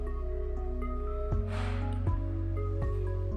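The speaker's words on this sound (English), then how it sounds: "Fill the tumbler with water and make the sound again by tapping with a spoon." A spoon taps a tumbler filled with water three or four times, each faint strike ringing on in sustained tones over a low, steady hum.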